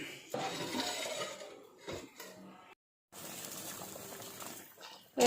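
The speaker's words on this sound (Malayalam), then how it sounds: "ഇനി നന്നായിട്ടൊന്ന് ഇളക്കി കൊടുക്കാം. കുറച്ച് കറിവേപ്പില കൂടി ഇട്ട് കൊടുത്ത് നടച്ചു കൊടുക്കാം." Fish curry with curry leaves is stirred in a cooking pot, giving close, uneven clatter of a utensil against metal with wet, sloshing liquid sounds, a brief near-silent pause midway and a sharper knock at the end.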